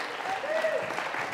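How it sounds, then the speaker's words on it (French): An audience at a public meeting in La Courneuve claps steadily in a dense, sustained burst of applause, with voices mixed in. "je vous demande également de vous lever pour applaudir la venue sur scène de la personne"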